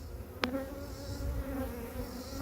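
Honey bees buzz at a beehive entrance where comb has been built across the opening, a steady close drone with one bee zipping loudly past the ear, no talk.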